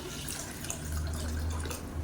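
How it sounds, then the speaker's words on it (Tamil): Water is poured onto washed lentils in a kitchen, making a steady, soft splashing and trickling sound throughout, with no one talking. "நல்லா கழுவிட்டு வந்தாச்சு தண்ணி ஊற்றிக்கலாம்"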